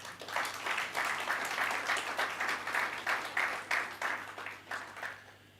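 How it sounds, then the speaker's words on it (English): Audience applause at a football club sponsor launch in Sandton, a moderate crowd clapping in uneven surges, with a low hum underneath as it tapers off. "round of applause"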